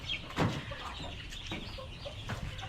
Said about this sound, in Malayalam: ഇത് നാടൻ കോഴിൻ്റെ സെക്ഷനാണ്